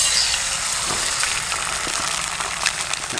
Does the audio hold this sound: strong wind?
no